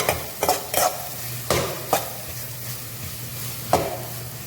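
A chili powder mixture for carrot thokku pickle sizzles steadily as it sautés in hot oil, close and clear, with several sharp scraping strokes of a spoon stirring the pan at irregular intervals and no voices.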